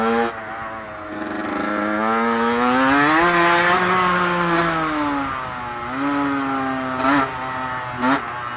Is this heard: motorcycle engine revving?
yes